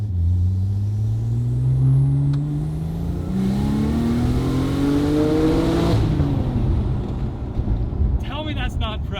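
A Porsche 996 Turbo's engine revs and accelerates under load, rising pitch sweeping up through gears, close and loud with wind noise and a voice talking over it.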